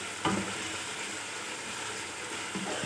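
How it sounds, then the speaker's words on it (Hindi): Chicken sizzling as it is fried and browned in a pan for chicken nihari, a steady close hiss with faint stirring scrapes and no talk. "इसको हमने अच्छे से भूना है, बस 1-2 मिनट हमने भूनना है इसको अच्छे से"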